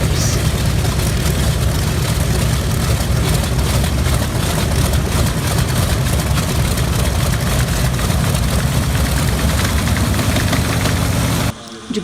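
Big old radial piston engine of a Grumman F7F Tigercat aircraft running at a loud, rough, steady roar throughout, heavy low rumble with clattering texture, cutting off abruptly right at the end.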